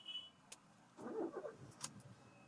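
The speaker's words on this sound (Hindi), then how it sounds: "गाड़ी मैंने स्टार्ट किया," A Honda City i-VTEC car engine cranks and catches with a brief starter whirr, then settles to a faint idle; the engine has a cylinder misfire and a check light on, and a few clicks sound nearby.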